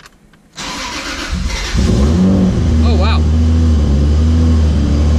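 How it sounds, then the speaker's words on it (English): A car cold-starting on E85 fuel at around 30 degrees: a few seconds of cranking, then the engine catches with a loud burst and settles into a steady, rumbling high idle, with a brief voice reacting over it. "this is that real cold start"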